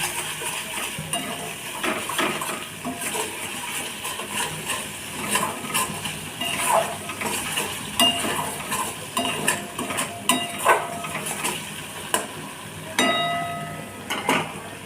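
Turmeric, salt and a pinch of sugar stirred in a pan while making a prawn malai curry, with clinking spoon-on-metal scrapes and knocks over a faint sizzle, close up, irregular and fairly loud, with no voices.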